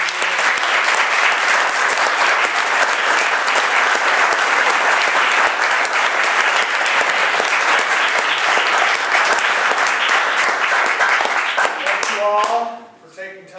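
Sustained audience applause at a political campaign event, a dense, steady wash of many hands clapping that holds loud and even for about twelve seconds before tapering off into scattered claps at the end.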